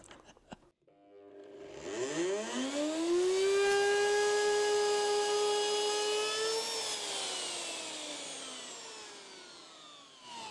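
A new power router spins up with a rising whine, holds a loud, steady high-pitched tone for several seconds, then winds down, heard alone and close.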